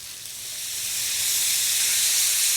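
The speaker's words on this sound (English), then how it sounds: "So we'll just shake off the excess, and in we go right into the oil" Battered pork for sweet and sour pork hits hot oil with a broad, hissing sizzle that swells louder over a couple of seconds and stays strong and close, with no voices.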